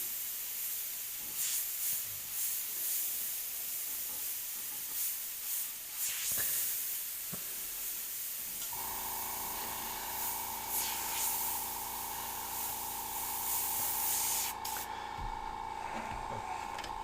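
A steady, airy hiss of spray runs continuously. About halfway through, a sustained tonal hum joins beneath it and holds to the end.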